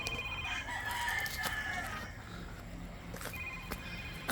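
Roosters crow in drawn-out calls over a steady farmyard background on a chicken farm in Cebu City, Philippines, with other fowl clucking faintly nearby.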